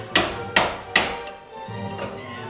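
A 3-pound hammer strikes a pickle fork wedged against a tie rod end on a 1995 Chevy Suburban, giving three sharp, loud metallic blows at an even pace, then a softer knock after a pause.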